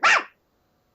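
A person mimics an excited dog with one short, loud, bright bark-like yelp, then silence.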